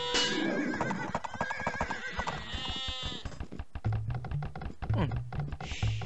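Horse unit in an Age of Empires match whinnying loudly near the start, followed by clicking and clattering game effects and short bursts of battle sounds, with commentary speech mixed in.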